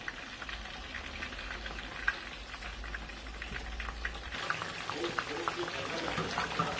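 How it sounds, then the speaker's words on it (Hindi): Lahori-style masala fish fries in hot oil, giving a steady, dense crackling sizzle close by that runs throughout, with a low rumble early on and a voice speaking over it. "इस साइड मैंने 5 से 6 मिनट फ्राई किया है।"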